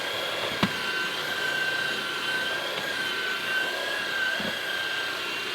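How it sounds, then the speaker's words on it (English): A Levoit LVAC 200 cordless vacuum runs steadily over carpet as it pulls up pet hair, giving a close, even motor whine with a faint higher tone and a couple of brief knocks. "here's the main vacuum attachment on this hair"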